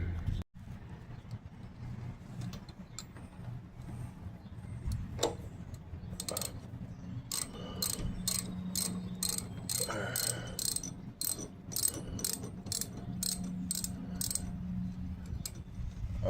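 A ratchet loosens the handlebar riser bolts on a 2002 Harley-Davidson Electra Glide Ultra, with runs of quick, rhythmic close clicks over a low background hum.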